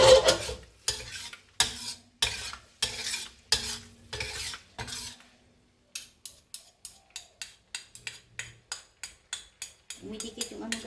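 A spoon scrapes and stirs seasoning, cheese and garlic in a pan over the stove in quick rhythmic strokes, slower at first and then a faster run of sharp taps, with a faint sizzle and a brief voice near the end.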